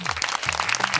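A Yoruba children's game show audience claps in brief, dense applause, with steady patter throughout a short burst and faint voices underneath.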